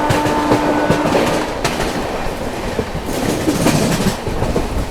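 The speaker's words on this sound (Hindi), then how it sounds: "जबरदस्त एक्सेलरेट करा है भाई अपनी गोवा संपर्क ने यहाँ पर" The Goa Sampark Kranti Express picks up speed, a loud, close rumble of rolling coaches with quick clickety-clack wheel beats over rail joints, continuous and free of voices.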